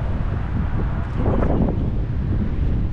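Wind gusts into the microphone outdoors near a shopping center, making a loud, continuous low rumble and buffeting that swells slightly in the middle.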